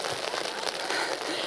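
Rain falls steadily on surfaces as a dense, hissing patter. It is fairly quiet and continuous across the short moment, with no voices.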